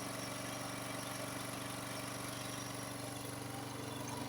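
A Honda HS828 snowblower engine runs at a steady idle after warming up with the choke opened, a smooth, even, continuous hum close by with no talking.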